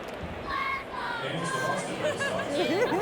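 A crowd of spectators at Fenway Park, the Boston ballpark, sends up a steady babble of chatter and cheering voices around a pitch, mid-distance and continuous, with individual shouts rising over the hubbub.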